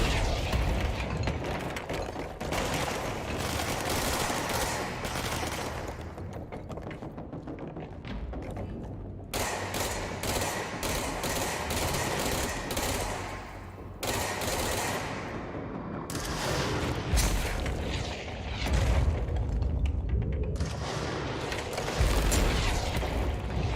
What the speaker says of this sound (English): Too many rockets.